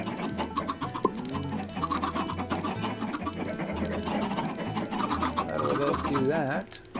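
Minecraft Java chickens clucking in short, repeated calls over busy game audio, with talking layered throughout.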